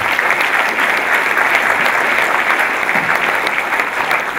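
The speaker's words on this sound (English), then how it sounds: "So thank you, round of applause to them, please." Loud, even applause fills the room at a skydiving expo awards ceremony, a sustained wash of many clapping hands up close with no break for its full length.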